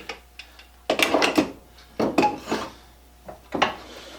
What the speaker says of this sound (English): As it cuts through that wood